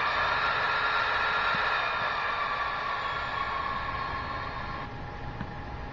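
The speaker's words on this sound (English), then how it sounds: "You're going to get your dynamic braking." Dynamic braking from a DCC sound decoder in an upgraded Athearn Blue Box model locomotive, a steady hissing, fan-like roar that stays constant and close before easing slightly near the end.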